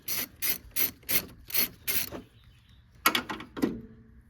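A ratchet works a valve cover bolt near the headlight on a Toyota 4Runner's 3.4L V6: about six quick, even bursts of clicking, then a pause and a few more rapid clicks, close and clear with no talk.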